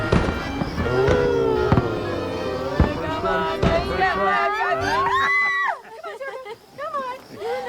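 Loud fireworks exploding in sharp bangs at irregular intervals, mixed with crowd noise and talking voices, the booms standing out over a busy background.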